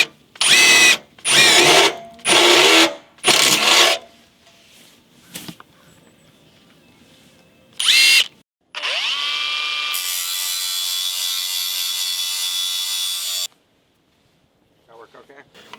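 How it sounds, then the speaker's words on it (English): A power drill bores a hole during a deck-building project, with several loud bursts early, then a long steady high whine lasting about five seconds, followed by near silence. "It makes your drill bits last longer, and it still works really well to get through the hole."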